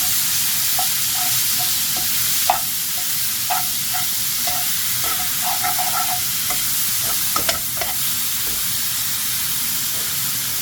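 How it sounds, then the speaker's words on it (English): Ground beef mince with 25% fat cooks in its own fat in a hot pan with no added butter or oil. A loud, dense, continuous sizzling hiss runs throughout, with occasional crackles and small pops close up. "it's just a nice sizzle on this one"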